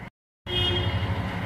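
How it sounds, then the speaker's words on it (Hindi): A Chevrolet Beat with its stock exhaust idles at close range, a steady low engine rumble that follows a brief dropout of silence. "कार हमने अपनी स्टार्ट कर ली है और ये रहा हमारा स्टॉक एग्जॉस्ट।"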